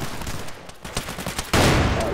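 A grenade goes off in a video game with a sudden loud, broad blast late in the short clip, following a stretch of scattered gunfire-like battle noise.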